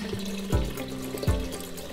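Water pours into a Vitamix blender as the base for a smoothie, a steady close splashing and gurgling stream that runs the whole time, with two soft thuds in the middle.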